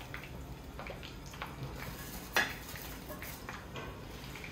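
Chicken rolls fry in oil in a pan, giving a soft, steady sizzle with faint utensil scrapes and one sharp clink partway through.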